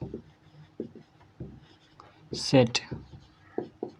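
Chalk or marker scratching across a classroom board in short strokes, with someone talking over it during a Class 11 maths lesson on infinite sets.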